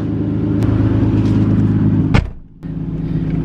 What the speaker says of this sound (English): Feels so good to be back in the GTR. Car's all warmed up